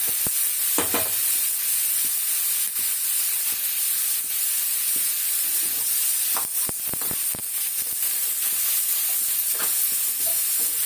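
Prawns sautéing in a little oil in a pan: continuous hissing sizzle with intermittent sharper crackles and stirring scrapes, fairly close, no talking.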